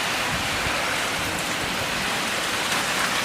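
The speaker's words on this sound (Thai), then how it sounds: "เสียงพายุเสียงลมพัดกระจกดังเปี้ยๆเลยตอนนี้" Typhoon Hagibis storm in Kawagoe, Japan: steady, loud rain and wind roar fills the whole stretch as a dense continuous wash, with no clear separate rattles of window glass standing out.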